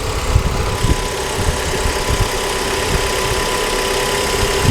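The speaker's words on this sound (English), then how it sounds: "Okay, so it started and the engine is running." A Kia Forte engine idles steadily with a low, rumbling drone and faint irregular knocks, close by and continuous with no talking.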